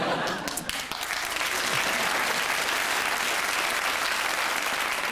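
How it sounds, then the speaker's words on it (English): A studio audience on a 1995 television panel show applauds, a dense continuous wash of clapping that holds at full strength throughout. "Might be more impressive if the floor manager didn't have to start the applause in the morning"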